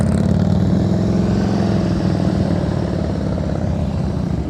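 A motorcycle with a loud exhaust rolls along at slow speed during riding-skills practice, its engine droning steadily and evenly with smooth, unbroken throttle, close and prominent throughout.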